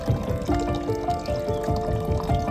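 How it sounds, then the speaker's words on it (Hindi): Natural spring water falling continuously at an ancient hidden temple in Kathikund, a steady near splashing pour with trickling and dripping textures, no talk over it. "यहाँ का पानी 365 दिन वैसे कैसे गिरता है"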